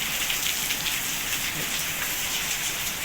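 Steady rain falls in a hill village near Dharamshala, a dense, even hiss of drops on surfaces that holds for the whole stretch without pause, with no voices over it.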